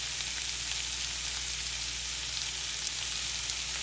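Onion and cabbage fry in a pan with a dense, continuous sizzle, bright and close, holding steady with no voices over it.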